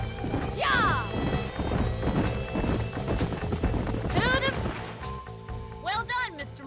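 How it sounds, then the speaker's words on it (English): Horses clip-clop in Red Dead Redemption on Xbox, hoofbeats running steadily under game speech and music, with a horse whinnying briefly near the start and again later. "These are fine horses."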